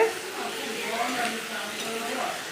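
Pointed gourd and shrimp frying in a pan, a steady low sizzle with occasional stirring scrapes running continuously throughout, fairly close and even in level.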